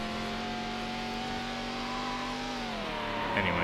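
A V10 race car engine in Need for Speed: Hot Pursuit 2 on PS2 drones steadily at high revs on the Alpine Trail Reverse track, its pitch holding level before dipping and shifting near the end, loud and continuous.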